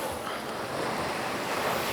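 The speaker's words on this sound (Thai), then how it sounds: "มันตัดเสียงคลื่นทะเลเยอะไหม" Sea waves washing onto a beach, a steady broadband roar of surf with some wind buffeting the microphone, continuous and fairly loud with no voices.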